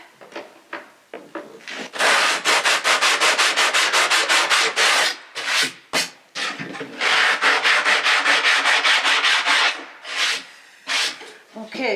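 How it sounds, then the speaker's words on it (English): Hand sanding of a wooden ladder frame part for a small rowing and sailing dinghy, a close, loud run of rapid back-and-forth rasping strokes in steady bursts, with a few short pauses between. "I sanded this one a little bit because it was really tight in that notch"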